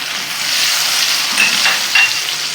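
Garlic, chili and lemongrass frying in a cup of oil, a steady close sizzle with brief stirring scrapes near the end, no talk.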